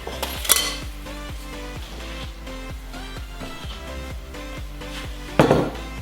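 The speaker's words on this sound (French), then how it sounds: "secoue-les correctement et mets-les dans le plat avec une pincée de sel et une cuillère" Golden fries are shaken and tipped into a serving dish, giving a steady run of light metallic rattles and taps with two louder clanks near the start and end, close and without talk.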